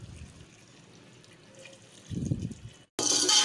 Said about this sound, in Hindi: अब हम पानी डाल लें